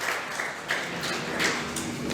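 Applause at a victory celebration honouring NEET medical exam toppers, a soft, steady crowd clapping heard from some distance, with a few slightly stronger bursts along the way.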